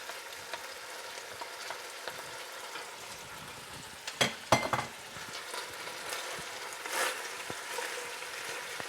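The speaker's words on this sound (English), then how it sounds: "I'm adding the roughly chopped onions." Roughly chopped onions sizzle in a goulash pot alongside golden-browned meat, a steady frying hiss with a few scraping stirs and clatters partway through, no voices.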